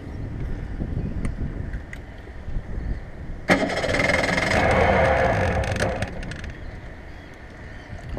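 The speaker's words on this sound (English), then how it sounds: "time for a cold start" Cold start of the engine on an Avon Searider boat, a sudden loud catch after a few quiet clicks, settling into a rough, steady running note that eases off toward the end.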